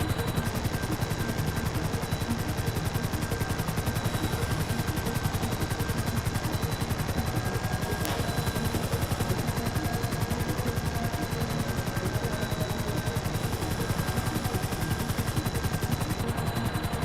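A helicopter's steady rotor drone in GTA V, with rapid machine-gun fire mixed in beneath it, fairly faint and continuous throughout.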